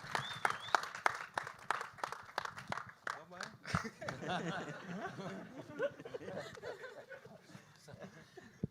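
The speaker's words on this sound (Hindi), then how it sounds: "ऑफ कोर्स रोहित सर के लिए एक बार जोरदार तालियां हो जाए." Audience clapping for director Rohit Shetty at the Punjabi film Ardas trailer launch: a burst of sharp, scattered claps over the first few seconds, then a voice talking over light crowd noise.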